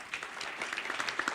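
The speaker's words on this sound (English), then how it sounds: "round of applause for Bill" Brief round of applause from an audience at a startup competition launch event, a soft dense patter of many hands clapping steadily for about a second, with no voices over it.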